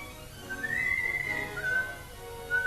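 A wheelwright whistles a tune in a village setting, a thin sustained melodic line with a few held notes over quiet background hum, fairly faint and without talk.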